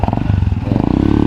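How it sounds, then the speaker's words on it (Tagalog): A loud motorcycle engine putters past close by, rapid rhythmic pulsing throughout the short burst. "Mga motor lang po."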